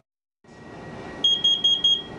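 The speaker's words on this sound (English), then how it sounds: "These four beeps mean it's time to get outside immediately." Four loud, high-pitched beeps sound in an even rhythm over a steady background hiss, the pattern of a carbon monoxide alarm.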